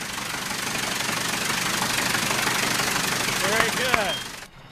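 A replica Wright aircraft engine runs on a test stand, a continuous rough mechanical drone with knocking pulses that holds steady, then cuts off near the end, with a few brief tonal squeaks just before.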